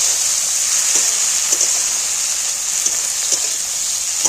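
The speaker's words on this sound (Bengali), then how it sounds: "আবারও আমি টমেটোগুলোকে ভেজে নেব।" Chopped tomatoes fry with reddened onions in hot oil in a pan, giving a loud, continuous hiss-like sizzle, with a few soft clicks and pops scattered through and no talk.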